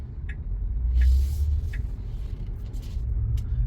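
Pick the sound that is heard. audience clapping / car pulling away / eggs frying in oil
car pulling away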